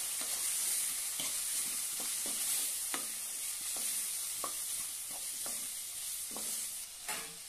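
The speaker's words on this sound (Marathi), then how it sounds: "अर्धा चमच गरम मसाला, आता छानपैकी परतून घेऊया।" Potato and spinach with garam masala stir-fried in a pan, a steady sizzle under repeated scraping strokes of a spoon, close and with no voice.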